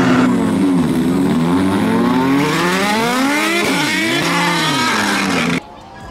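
Supercars rev loudly in a parade at the Festival of Speed as they warm up their tyres, with engine notes sweeping up and down in overlapping waves before they cut off abruptly near the end.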